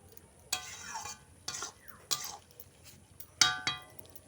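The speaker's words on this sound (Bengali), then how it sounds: "এবার আমি সব নাড়িয়ে চাড়িয়ে সব মিশিয়ে নিচ্ছি।" Potatoes are stirred and mixed with spices, sugar and chili powder, giving a few separate scraping, clattering strokes of a utensil against the pan, each lasting about half a second, close and moderately loud with no talk.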